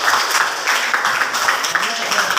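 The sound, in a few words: applause for group 2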